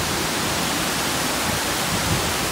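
Waterfall at Hug Point on the Oregon coast, a constant broad hissing roar of falling water, loud and unbroken with no other sounds standing out.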